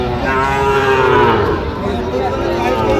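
A loud, drawn-out moo from cattle at the Ambari livestock haat, where small bulls and heifer calves are sold. It rises and falls over steady, close crowd noise.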